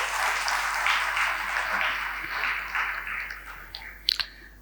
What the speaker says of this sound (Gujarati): તો તાળીઓથી એમનું સ્વાગત આપણે કરીશું.